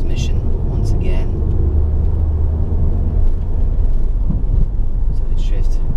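Peugeot RCZ 1.6 THP from 2011 driving in fourth gear, a steady low engine and road rumble throughout, loud and close from inside the cabin, with a voice speaking over it.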